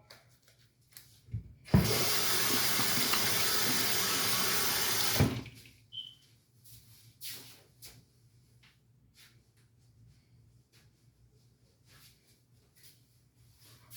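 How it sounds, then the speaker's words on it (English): Hands are washed with soap under a running tap, a loud, steady splash of water lasting about three seconds, followed by quieter rubbing and handling sounds in a small room. "sometimes I like to wash my hands with soap"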